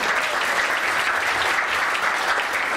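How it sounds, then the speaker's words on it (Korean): Loud, dense applause from an audience at a startup weekend event, honoring volunteers and staff, a sustained even wash of many hands clapping together throughout. "여기 준비해주신 팀장님들, 실장님들 박수 한번 부탁드릴게요."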